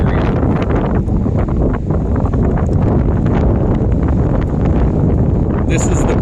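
Strong storm wind from a cold front at Lake Huron's shore in Brights Grove, Canada, a loud, steady roar and buffeting against the microphone throughout, with no voices.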